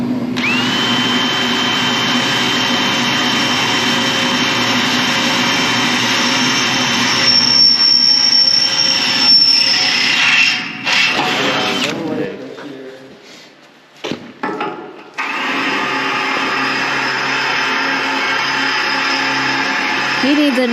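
Power drill boring a pilot hole in steel during a door installation, a loud continuous grinding whine from close by that sags and cuts out near the middle before starting again, with people talking.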